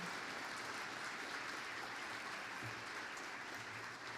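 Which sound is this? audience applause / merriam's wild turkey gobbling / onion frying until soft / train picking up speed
audience applause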